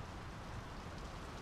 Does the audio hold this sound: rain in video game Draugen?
yes